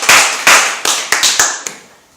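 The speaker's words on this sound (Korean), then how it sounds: "우리 박수 한번 합시다." A church congregation applauds after a piano performance, with a few strong clap bursts that thin out and fade over two seconds, fairly close and with no talking.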